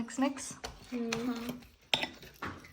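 A spoon clinks and scrapes against a bowl as banana bread batter is mixed, several close knocks and scrapes heard under and between talking voices.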